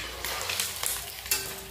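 An egg fries in a pan with a brief, steady sizzle close by, broken by a few light clicks.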